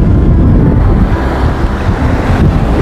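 Ocean waves washing onto a beach, a loud, continuous low rumble of surf mixed with heavy wind buffeting the microphone, with no voices.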